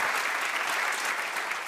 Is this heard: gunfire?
no